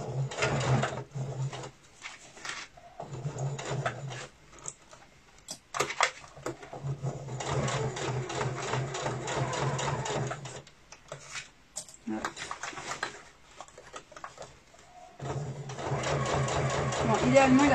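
A sewing machine stitches a seam on a clutch bag in bursts of steady mechanical whirring. The bursts are broken by pauses and small handling clicks, and someone speaks French softly between the runs.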